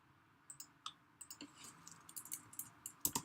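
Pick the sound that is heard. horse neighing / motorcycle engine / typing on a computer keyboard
typing on a computer keyboard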